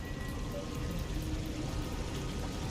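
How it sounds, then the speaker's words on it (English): Continuous rushing water from a waterfall in Mass Effect 3, a steady, dense splashing roar at moderate loudness with faint tonal hum beneath, no speech. "Please do not touch the waterfall."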